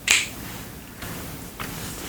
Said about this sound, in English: What does the snap mean?